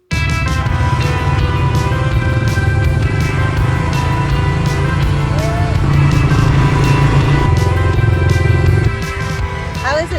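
A secondhand marketplace pit bike rides a single-track trail behind a house. The loud, close engine drones steadily with small shifts in revs and eases slightly near the end.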